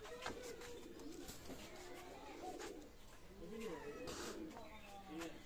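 Teddy pigeons coo softly in repeated low, throaty phrases, with a steady hiss and faint background voices underneath.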